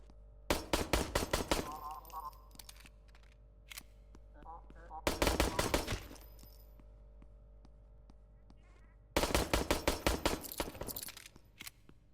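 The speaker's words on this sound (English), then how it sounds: "I hear shooting." Bursts of automatic gunfire from the shooter video game FEAR 2: Project Origin, three loud rapid-fire volleys separated by quieter stretches with faint background game sounds.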